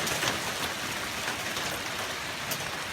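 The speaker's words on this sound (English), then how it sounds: "we got hailstones the size of peas falling out of the sky" Pea-sized hail falling during a lightning storm in Wells, BC: a steady, dense hiss of small stones striking surfaces, constant and close with no talk.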